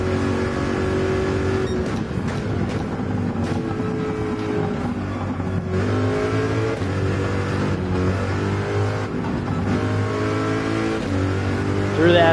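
Race car engine in Gran Turismo 7 revving hard and steadily at high speed, a loud continuous droning tone with rising and falling pitch sweeps through gear changes, running throughout without talk.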